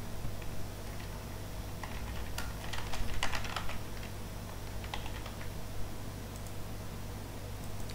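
Someone types a username and password on a computer keyboard to log in to an online oxygen management system, a steady patter of faint keystrokes with a slightly busier burst midway over a low constant hum.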